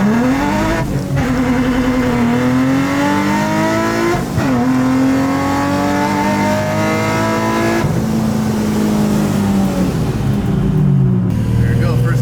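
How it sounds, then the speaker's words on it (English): A supercharged Infiniti G35 with a vented carbon fiber hood pulls hard through first gear, the engine note climbing in a loud sustained rising whine with supercharger whine over it, several surges and dips as revs rise, close and dominant. "So he's going to do a first gear pull."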